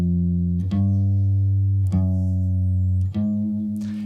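Low bass strings plucked on a guitar, four separate sustained notes ringing out one after another with clear pick attacks, played alone and fairly softly.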